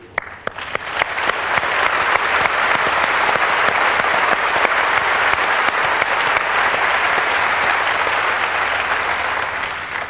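Audience applause at the Windows 95 launch event: a large crowd claps steadily, beginning with a few scattered sharp claps and swelling into dense, sustained clapping that stays loud for the full stretch before easing slightly at the end.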